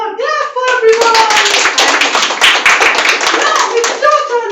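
Schoolchildren at a Kendriya Vidyalaya school workshop clap their hands together in a loud, close burst of quick uneven claps, with children's voices calling out at the start and end.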